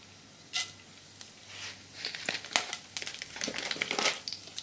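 Mustard seeds dropped into hot oil for a green beans stir fry, crackling and popping in quick irregular bursts that build into a busy sizzle, close and fairly quiet.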